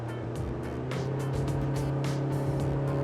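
Steady, close drone of the Karnic SL 602 boat's engine held at 3,300 RPM, cruising at 10 knots in navigation trim on open water, a continuous even hum with wind and water noise.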